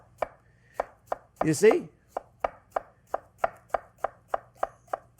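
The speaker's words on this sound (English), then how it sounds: "we're just going to take them and cut them in little slices" A kitchen knife slices cucumbers on a cutting board in a steady run of about thirteen crisp, evenly spaced chops, close and clear. Someone speaks briefly partway through.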